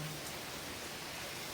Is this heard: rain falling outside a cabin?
yes